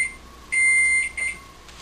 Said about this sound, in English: timer going off means bread should be about done